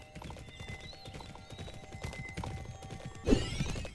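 Horse hooves clip-clopping in a steady rhythmic gait in the Bibi & Tina horse-riding video game, followed by a louder neigh near the end, all close and without talk.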